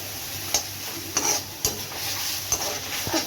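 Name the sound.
bitter gourd sautéing in oil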